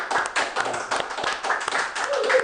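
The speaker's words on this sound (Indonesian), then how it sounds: "Kita berikan aplaus teman-teman" Brief, lively applause from a small audience at a Bawaslu Kota Semarang session, with rapid clapping close by and faint voices mixed in.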